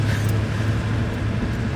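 An air-cooled Porsche 911 sports car engine holds a steady, low, rumbling drone, heard close and fairly loud for a brief moment with no voices.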